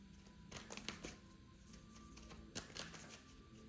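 Tarot cards are shuffled softly at close range, giving a few quick riffling bursts separated by quiet pauses, with no one talking.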